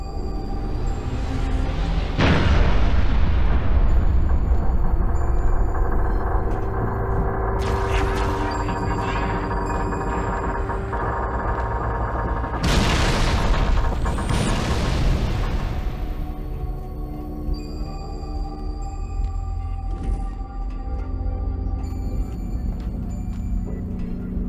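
An artillery final protective fire barrage explodes in a video game. Heavy booms rise into a continuous deep rumble, with fresh loud blasts near the start and midway, sustained for over twenty seconds without voices.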